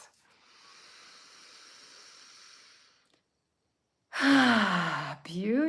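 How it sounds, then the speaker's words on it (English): A long, soft breath is exhaled through the mouth during a guided meditation, a faint airy hiss lasting a few seconds, followed by silence and then a voice speaking. "Exhale through the mouth."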